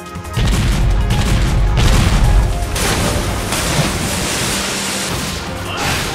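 Ship cannons bombard the deck in Sengoku Basara: Samurai Heroes: loud, dense explosions layered into a continuous booming roar, heaviest in the first two seconds and then a sustained rumbling barrage.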